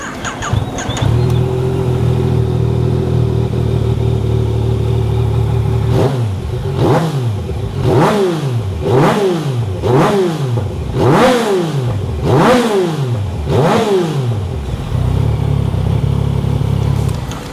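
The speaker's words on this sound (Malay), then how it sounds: "Kita belanja juga bunyi untuk motor ni." Repeated throttle blips from a Yamaha Tracer 900 V1 motorcycle with 76,000 mileage, or a QJ Motor SRT 800, idling steadily and then revving hard about eight times in a regular rhythm, loud and close.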